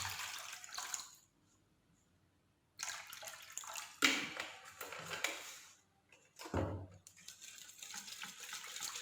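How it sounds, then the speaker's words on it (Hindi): Water pours into a besan (gram flour) mixture for Punjabi kadhi in a home kitchen, heard as a steady splashing stream in two or three bursts with short pauses between them. "इसमें हम डालेंगे 3 कप जो हम लोगों ने पानी लिया था वो हम लोग इसमें ऐड करेंगे"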